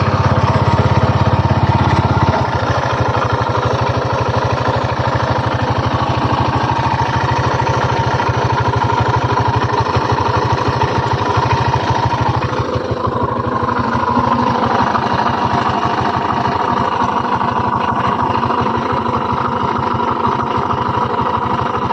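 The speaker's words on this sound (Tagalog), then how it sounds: "Honda Click 125 nagkaroon ng ingay ang kanyang makina" A Honda Click 125 motor scooter engine idles steadily and loudly up close, with a rattling, uneven mechanical noise from a worn side bearing running through the drone.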